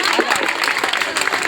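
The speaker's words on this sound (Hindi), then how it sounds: "सभी लोग जोरदार तालियों के साथ स्वागत करें।" Loud, dense applause from a crowd welcoming a guest at a religious storytelling gathering, a fast, continuous clatter of many hands heard up close.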